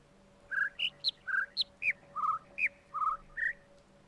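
Two birds in the video game The Witness sing over each other, trading short clear whistled chirps in a quick, uneven string against a quiet background hum.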